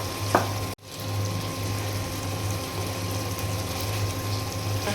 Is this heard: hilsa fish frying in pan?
yes